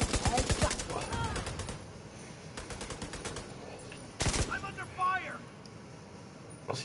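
Gunfire in The Division 2 aimed at yellow panels, fired in quick automatic bursts that come loud and close, with gaps between volleys and short stretches of talking over the shooting.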